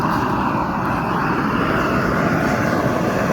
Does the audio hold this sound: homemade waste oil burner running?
yes